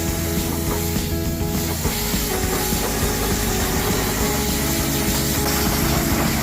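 A continuous, loud hiss of water rinses degreaser off car trim, a dense, steady spray with no pauses.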